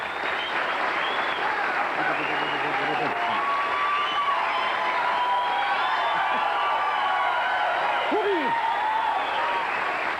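A TV studio audience applauds and cheers in a steady, loud wash of clapping with scattered whoops, unbroken from start to finish.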